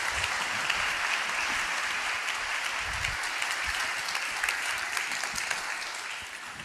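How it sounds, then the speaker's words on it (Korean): Sustained applause from a church congregation welcoming Pastor Dave Gibbons to the stage, a dense, even wash of clapping from a large crowd that holds steady throughout and fades slightly at the end. "이제 데이브 기번스 목사님 올라오실 때 큰 박수로 환영하겠습니다"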